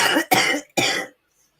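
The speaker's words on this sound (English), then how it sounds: "Still coughing." A person with asthma coughing up close, three harsh bursts in quick succession, loud and dry, then silence.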